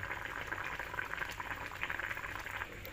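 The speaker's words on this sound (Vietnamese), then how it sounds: "mình để cho nó rút xuống xíu nữa, rút nước cho nó cạn cạn xuống xíu nữa" Braised mullet with onion bubbles and simmers in a pot as its liquid cooks down, a steady soft crackling sizzle heard close up with no talking.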